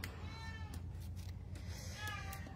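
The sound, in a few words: pet cat meowing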